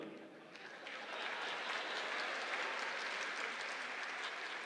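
Audience applause at a stand-up comedy show, a dense, even wash of clapping that swells after the first second and holds steadily, fairly distant and moderate in level.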